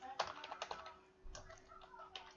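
Light, quick clicks of typing on a computer keyboard, irregular bursts of keystrokes close by and faint, with short pauses between runs.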